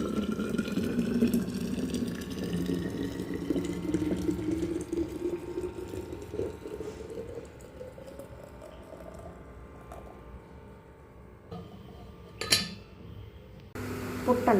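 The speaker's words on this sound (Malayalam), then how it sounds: "ഫ്ലാസ്കിലേക്ക് ഒഴിച്ചു കൊടുക്കാം" Boiled drinking water is poured into a flask, a close, steady liquid stream whose pitch rises as the vessel fills, followed by a few light kitchen clinks.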